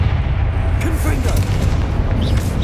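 A Confringo fire spell blasts in the Hogwarts Legacy video game, a loud, close rumbling boom with crackling bursts amid combat noise, and voices heard briefly.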